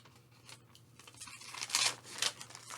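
Scissors cut a piece of material to make a mask in an art project, a few crisp snipping strokes growing louder toward the end, close up with faint background hum.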